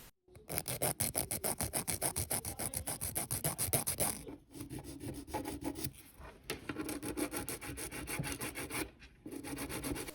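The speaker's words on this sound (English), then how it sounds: "I'm just filing it on the sides to give it more of a kind of like sharper look" A nail file rasps along the sides of long press-on nails in quick, steady back-and-forth strokes, close and loud, with two brief pauses between bursts and no talking.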